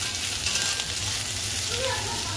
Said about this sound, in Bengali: সোয়াবিনটা একটু ভেজে লাল লাল করে